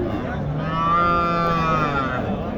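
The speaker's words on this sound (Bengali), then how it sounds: "এই যে এখানে একটি দেখেন দেশি গরু" A native cow lows at a rural cattle market, one long drawn-out moo close by, loud and clear over a busy background of crowd noise.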